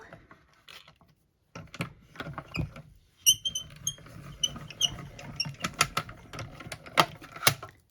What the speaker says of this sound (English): we are done with our embossing